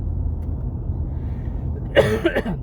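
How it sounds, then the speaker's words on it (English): Against a low background rumble, a person coughs twice in quick succession near the end, short and dry. "I still have a bit of a dry cough."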